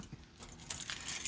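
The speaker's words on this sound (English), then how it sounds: "The keys are here." A set of keys jangles near the mic in a short, bright metallic rattle while work goes on on an Astro van's windshield wiper arm, with some faint background noise.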